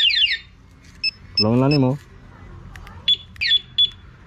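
A two-way alarm on a carbureted Suzuki Raider motorcycle gives rapid chirping beeps at the start and again near the end, with a brief voice and a short tonal blare in between.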